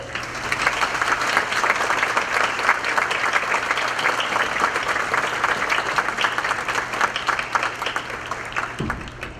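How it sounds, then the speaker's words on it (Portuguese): An audience at the launch of a new public transparency portal applauds in a dense, sustained burst of clapping that holds steady for several seconds before tapering off at the close. "pedir a ajuda de vocês para saudá-los com os aplausos"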